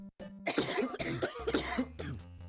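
A quick cluster of cough sound effects plays on a livestream, several sharp, close coughs bunched together over about two seconds, with faint background music underneath.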